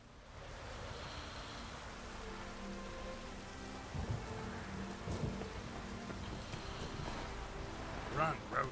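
Steady rain in The Witcher 3, a constant wash of downpour with faint rumbles and a few louder thuds, heard under quiet game sounds.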